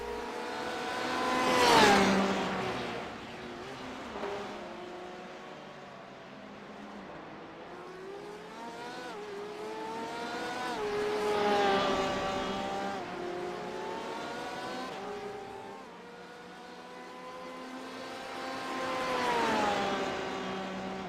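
Porsche race cars in a racing video game at Suzuka circuit, engines droning and rising in pitch as they accelerate and shift, with several louder swells as cars come close and pass.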